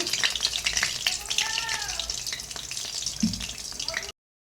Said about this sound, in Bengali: তো দেখো এটা ভাজা হচ্ছে